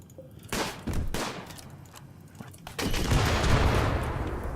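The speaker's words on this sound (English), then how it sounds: "Riesling, you are using the machine gun." Machine gun fire in RimWorld, a rolling, dense fusillade of overlapping shots that swells louder in the second half, steady and continuous without pauses or talk.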